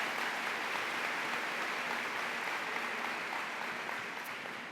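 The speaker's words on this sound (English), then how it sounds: "Let's give them another round of applause" Sustained applause from a large audience at a convocation ceremony in a convention center, a dense steady wash of clapping that holds evenly for several seconds and eases slightly at the end.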